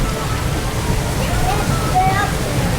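Water rushes and sloshes around a water coaster ride at SeaWorld Orlando, a loud, steady churning wash with riders' voices mixed in.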